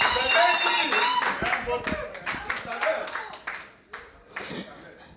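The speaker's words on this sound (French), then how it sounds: "On acclame une fois de plus." A crowd applauds at a diploma ceremony for end-of-internship certificates, a burst of mixed hand clapping close by that thins out and tapers to scattered claps, with a voice heard over it.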